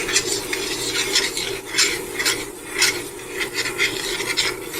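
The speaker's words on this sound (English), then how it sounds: "And we'll stir our flour around." A spoon stirs flour through chopped vegetables in a pot for ham chowder, making a steady, close scraping and rubbing with rhythmic strokes and faint sizzling underneath, and no voices.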